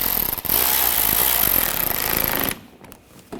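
Power tool snugging screws on the intercooler panel of a 2013-2022 Buick Encore 1.4L L4, one loud continuous burst of about two and a half seconds, then it cuts off into near quiet.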